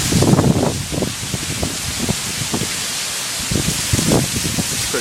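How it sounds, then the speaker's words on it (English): A heavy rain storm pours down as a dense, steady hiss, with gusts of wind buffeting in bursts, close and loud throughout. "A lot of wind, a lot of rain."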